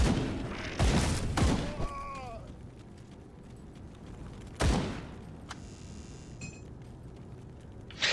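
Magical bolt-action musket shots from the Grim Dawn video game: a few sharp, loud blasts spaced seconds apart, with quieter game effects and ambience in between.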